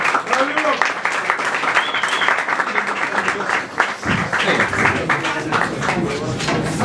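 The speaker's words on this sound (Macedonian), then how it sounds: "Живели еден голем аплауз за фестивалот." Audience applause for the Skopje Guitar Festival, a steady wash of many hands clapping that carries evenly through the whole stretch, with voices mixed in under it.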